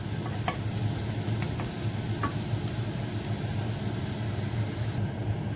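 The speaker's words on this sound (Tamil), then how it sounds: "வதக்கிட்டு மீடியம் ஹீட்டிலே ஒரு 2 நிமிஷம் விடுவோம்." Ingredients for Jaffna-style chickpea sundal sauté in a pan over medium heat, a steady close sizzle and hiss throughout with a few light stirring clicks early on.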